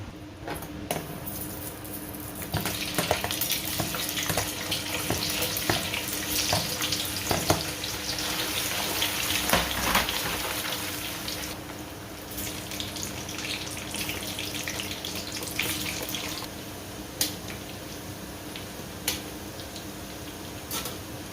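Meatballs fry in hot oil with a continuous crackling sizzle, close and fairly loud, swelling and easing over time, scattered with sharp ticks and pops, and no one speaking.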